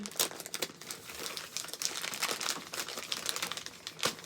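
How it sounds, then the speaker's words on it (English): Someone rips open a mail package, producing close, loud crinkling and tearing of wrapping in quick irregular bursts throughout. "And now we're just going to kind of rip open."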